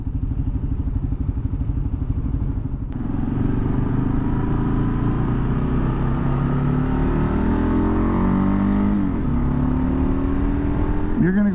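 A 2023 Kawasaki KLR650 motorcycle engine drones steadily close up while riding, its pitch rising and falling as the throttle opens, with a brief dip before the revs build again.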